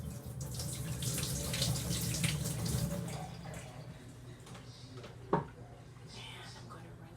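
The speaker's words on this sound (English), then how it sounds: "I'm going to pour it through my sieve." Water holding baby brine shrimp from a hatcher is poured through a sieve, making a steady splashing pour for about three seconds that thins to a quieter trickle, with one small clink near the end.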